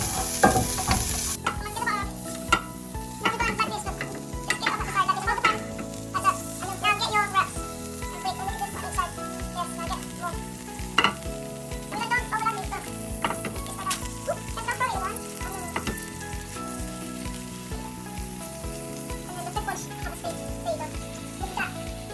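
Potato tortilla wraps frying in butter in a pan, a soft sizzle under scraping spatula strokes and stirring, with background music and a voice now and then.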